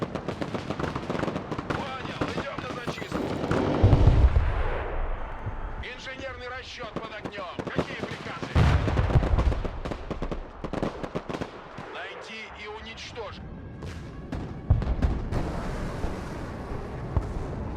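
A Tor missile strike in the game Broken Arrow lands with several booming explosive blasts among ongoing battle noise, and someone talks over much of it.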